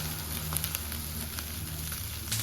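Curry leaves frying in hot oil in a home kitchen alongside fried lady's finger for fried rice, a steady quiet sizzle and crackle with faint pops, no voice over it.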